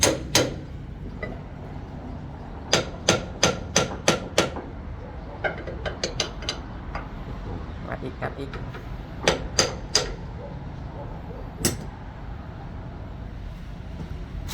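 Hammer blows strike steel while a belt roller bearing is replaced, sharp close metallic bangs in quick bursts of several strikes with pauses between, over background noise and occasional talk.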